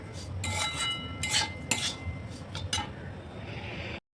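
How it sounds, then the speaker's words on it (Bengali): Semolina being stirred in a pan with a spoon while a little water is added, giving close scraping and clinking against the metal in short bursts, with a soft wet hiss toward the end. "অল্প একটু জল দিয়ে আবার ভালো করে নাড়বো।"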